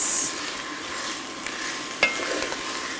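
Bite-sized chicken pieces cook in a soup pot over medium to medium-high heat, giving a soft, steady sizzle with light stirring and one sharp utensil clink partway through.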